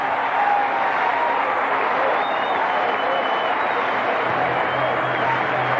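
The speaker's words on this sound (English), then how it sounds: "Crowd ready and getting into it, waiting for the 2-0 to Bagwell" Baseball crowd at a 1997 Mets at Astros game in Houston, a steady roar of cheering and clapping under a broadcaster's talk, building as fans wait for a pitch.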